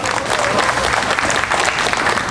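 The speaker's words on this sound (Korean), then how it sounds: "힘찬 박수 부탁드립니다." A crowd at a construction workers' union rally in Daegu applauds a speaker. The clapping is dense, loud and steady, and a faint voice can be heard within it.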